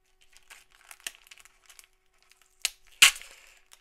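Faint crinkling and scratching, then a sharp ripping crack as tape is torn off a trading card pack box, close and otherwise quiet.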